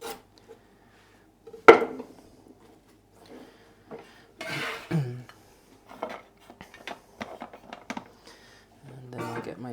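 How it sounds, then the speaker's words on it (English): A knife cuts vegetables into thin slices on a cutting board in a quiet kitchen, giving scattered taps and short rasping strokes with gaps between, one sharp knock early on, and a voice speaking intermittently. "So I'll just cut these up real quick"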